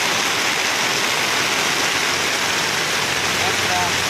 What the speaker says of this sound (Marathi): पाऊस कसा वाटतोय